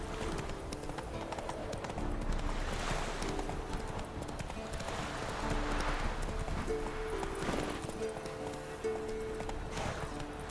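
The horse Roach gallops in the video game Witcher 3, rapid rhythmic hoofbeats pounding continuously under game music and ambience, fairly near.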